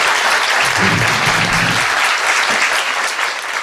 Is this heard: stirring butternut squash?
no